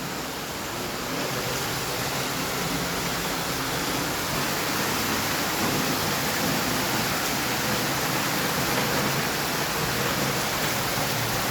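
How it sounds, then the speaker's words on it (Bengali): Heavy rain pours outside a room, a thick, unbroken hiss of downpour that holds steady and fairly loud from start to finish with no talking. "বাইরে প্রচুর বৃষ্টি হচ্ছে।"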